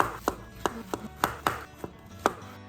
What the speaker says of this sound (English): Next, we are cutting off the ends and then chopping them in half.